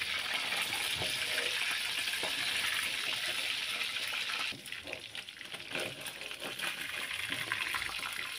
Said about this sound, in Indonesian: Lalu tinggal goreng ikan tongkolnya.